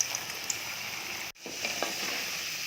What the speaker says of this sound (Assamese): ইয়াত এতিয়া প্ৰথম আলুখিনি ভাজি উঠাই ল'ম।